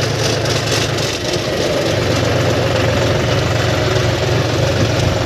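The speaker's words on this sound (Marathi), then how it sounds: "तर आपण इथं आपले ट्रॅक्टर लावून देऊ" A tractor parked at a farm field near a shed, its engine idling loud and close with a steady low rumble and vibration that barely changes throughout.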